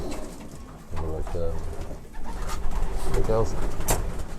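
Racing pigeons coo in a loft in England, with repeated low rolling coos up close while someone talks over them.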